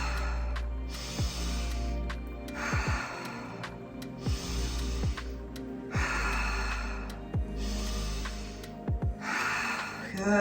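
Deep, rhythmic breathing during a guided breathwork exercise, with six or so long, loud inhale-and-exhale cycles close to the microphone over a low steady background hum.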